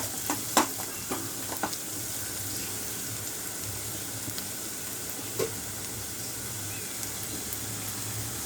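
Onions for kadai paneer fry slowly to golden in a kadai, a steady even sizzle carrying on throughout with a few early utensil taps and one later clink, no voices.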